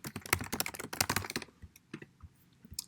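Rapid typing on a computer keyboard, dense clattering keystrokes close up for about a second and a half, then thinning to a few scattered, quieter taps with a short burst at the end; no talking.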